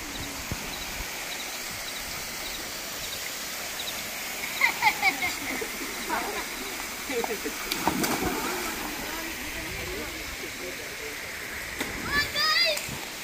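A small waterfall of muddy water on Mumbra hill, fed from dams upstream, makes a steady, continuous rush at moderate distance, with people talking over it at times.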